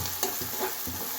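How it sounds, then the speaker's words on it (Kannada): Onions frying in oil with salt, likely for masala dosa filling, give a steady close sizzle with a few brief stirring scrapes across a short stretch, no voices. "ಈರುಳ್ಳಿನೂ ಎಣ್ಣೆಲಿ ಚೆನ್ನಾಗಿ ಫ್ರೈ ಆಗುತ್ತೆ"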